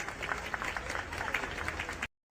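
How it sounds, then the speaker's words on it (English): Applause from an audience at a political rally, dense clapping with a few sharper claps standing out, sustained and then cut off abruptly. "let's have a round of applause for Amal and her message of hope"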